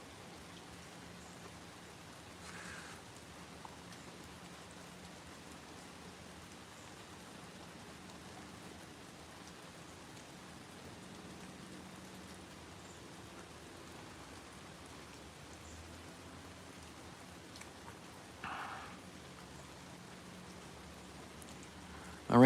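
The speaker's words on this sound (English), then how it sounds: "The rain is starting to let up a little bit, but it could pick up again, who knows." Steady rain falling during a thunderstorm, a soft, even hiss of drops on surfaces that runs throughout at low level, with a couple of faint brief knocks and no thunder.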